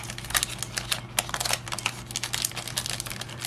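A foil Magic: The Gathering Aether Drift Play Booster wrapper is torn open from the bottom. Close, dense crinkling and ripping crackles run steadily throughout with no talk.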